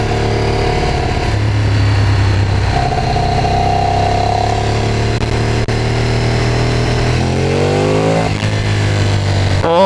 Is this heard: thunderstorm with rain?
no